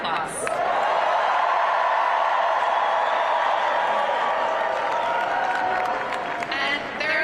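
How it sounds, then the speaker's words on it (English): An audience applauds Zohran Mamdani at a New York City mayoral election victory event, with a dense, sustained wash of clapping and crowd noise throughout. "So please join me in giving Zohran, our friend, a round of applause."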